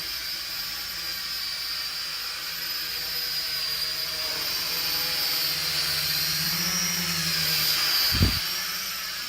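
A Holy Stone X400 quadcopter drone flies overhead outdoors with a steady, high buzzing whine that swells louder as it passes. A single soft thump comes near the end, and no one speaks.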